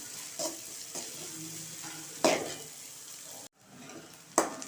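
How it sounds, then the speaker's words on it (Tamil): Onions, green chillies and curry leaves sauté in a pan with a steady, close sizzle, punctuated by a few spatula scrapes and clinks and one brief drop-out near the end. "ரெண்டு கொத்து கருவேப்பிலை சேர்த்துக்கலாம் நல்லா சேர்த்து வதக்கணும்"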